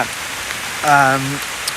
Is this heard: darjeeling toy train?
no